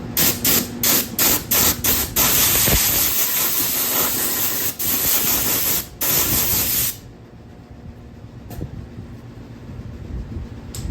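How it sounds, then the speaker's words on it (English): Compressed air blows hot metal filings off a shaved rear fender seat on a 2009 Police Special. Short, loud hissing blasts come first, then a long steady spray that stops abruptly, followed by faint noise. "Just use a little bit of compressed air to blow the filings off because they get hot"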